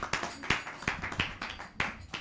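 Scattered claps from a small audience at a Sunday temple program, a few loose, uneven hand claps spaced out over a couple of seconds rather than a full burst of applause.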